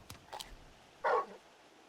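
Torgal, a large wolf-like dog in Final Fantasy XVI, gives a few soft yips followed by one clear, fairly close bark, short and isolated against quiet background.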